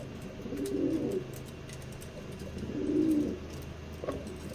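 Racing pigeons in a loft give low, soft cooing calls in two rolling bursts, with faint rustling and ambient noise between them. The calls come from close by.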